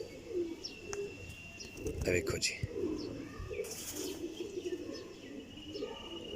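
Pigeons cooing in a loft, soft repeated low coos with occasional chirps and wing or perch knocks, close by, while someone talks briefly over them.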